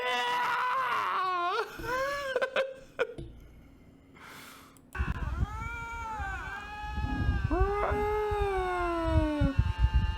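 A lynx yowls and wails in long, rising and falling cries that sound like a whining child, loud and close, with a short quiet gap midway before a fuller, grating burst of yowling.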